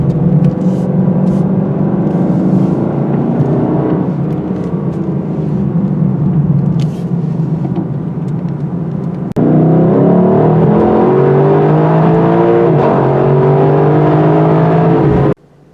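A 2023 Lexus LC 500 V8 driven hard through corners, its engine note rising and falling with revs, loud and steady. A sharper, higher-pitched surge of acceleration comes near the end.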